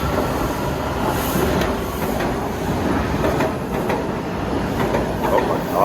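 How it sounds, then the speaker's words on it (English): Old rolling stock on a city rail line running along the tracks, a loud steady rumble with rhythmic clatter and faint metallic squeal, heard from inside the moving train without talking. "They're still running the same rolling stock?"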